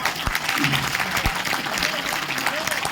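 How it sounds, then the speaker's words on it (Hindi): Loud, dense applause from an audience at an Urdu mushaira poetry recital in Kanpur, a continuous wash of clapping with a few sharper claps standing out, while a voice speaks over it. "जोरदार तालियां बजा दीजिए"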